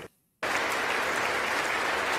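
After a brief moment of near silence, a crowd at a trilateral summit breaks into sudden, loud, sustained applause, with dense clapping continuing to the end.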